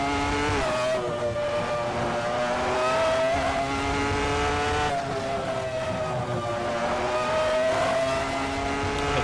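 A Ferrari F310 Formula One race car in Assetto Corsa, its high-pitched engine screaming steadily as it pulls through a corner, dropping briefly at around five seconds before climbing and revving hard again, loud and close throughout.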